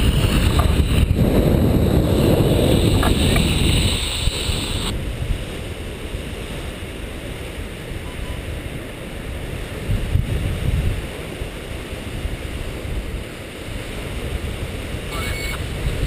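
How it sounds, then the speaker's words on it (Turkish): Steady wind of about 28-30 km/h roaring and buffeting across the microphone during a tandem paraglider flight, heavier in the first few seconds, then a continuous rushing noise throughout. "Aşağı yukarı şu anda 28-30 kilometrelik bir rüzgar var"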